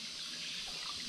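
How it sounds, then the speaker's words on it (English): Soft, steady trickle of a small river in remote Bali, a continuous gentle hiss of running water with no voices. "As you see, it's only a little water"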